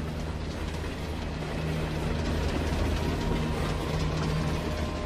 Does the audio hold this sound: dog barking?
no